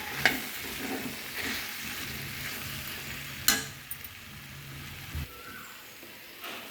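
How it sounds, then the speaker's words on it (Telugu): Boiled potato pieces are stirred in a hot pan, giving a soft, continuous sizzle broken by a few sharp clinks of a spoon against the metal. "బాగా కలుపుకోవాలి"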